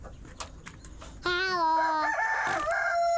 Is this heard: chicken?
yes